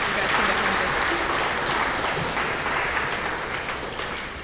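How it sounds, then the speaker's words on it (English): Applause from a school audience at a junior high awards program, honoring seventh graders; a steady, dense wash of clapping from many hands that fades gradually toward the end. "So let's give those 7th graders another round of applause."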